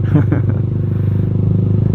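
Deep, steady engine rumble of an idling Honda Sonic 150R motorcycle through a long Pocaliner exhaust, close and loud, with a faint brief voice near the start.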